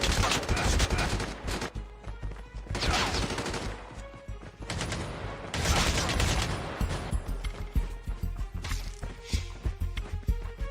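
An enemy player in a video game emptying a magazine: repeated loud automatic gunfire bursts across the whole span, close and harsh, with short gaps between volleys and no talk.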